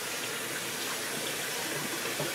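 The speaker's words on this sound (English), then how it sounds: "Daddy gotta fill a cup up with water" Tap water gushing into a cup, a steady, close rushing hiss that runs without a break and with no talking over it.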